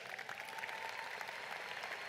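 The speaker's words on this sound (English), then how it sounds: "One more round of applause for the adolescents." Graduation ceremony audience applauding in a large hall, a steady dense wash of clapping from many hands, distant and soft, unbroken throughout.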